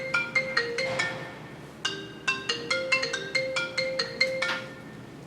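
A phone in a government office rings with a rapid electronic trill repeated in regular bursts, loud and close, with no talk over it.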